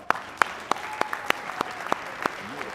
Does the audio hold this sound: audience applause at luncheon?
yes